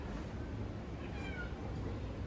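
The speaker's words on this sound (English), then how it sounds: "I thought one of my cats got here in the backyard." A cat meows outdoors in a backyard, a faint drawn-out call under steady broadband background noise, heard once or twice in the distance.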